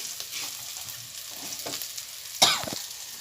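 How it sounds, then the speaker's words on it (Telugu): Ingredients stirred and fried in a pan until they turn red, with a continuous close sizzle, light scraping strokes and one sharper clatter partway through. "ఇలా కలుపుకుంటూ ఇదిగోండి, ఇలా బాగా వేయించుకోవాలండి."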